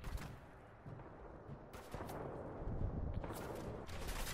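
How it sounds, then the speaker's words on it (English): Gunfire in the video game Fallout 4, several shots and bursts landing through a dense, noisy battle mix, with loud broadband cracks near the start, around two seconds and again after three and a half seconds. "Who's shooting me? Stop shooting me."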